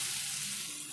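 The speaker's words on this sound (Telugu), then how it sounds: "ఈ పప్పు కొద్దిసేపు ఈ నూనెలో ఇట్లా మంచిగా గోలాలి" Moong dal frying in oil while being stirred in a pan, a steady soft sizzle running quietly and evenly throughout.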